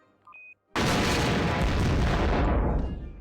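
A small electronic tone is followed by a sudden loud blast of explosives hitting glass windows in a video game, a heavy booming roar that holds steady and tapers off over a few seconds.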